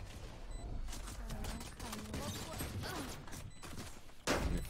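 An automated turret firing in a tactical shooter match after the spike is planted, with sustained rapid gunfire bursts over game noise and a louder hit near the end, no talk.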